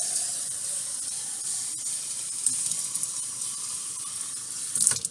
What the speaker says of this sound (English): just fill up a little additional water.